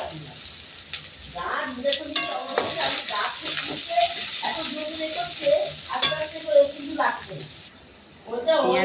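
Onion sizzles in hot oil with bay leaf and garam masala as a spoon stirs and scrapes the pan, moderately close, with a voice talking over the frying.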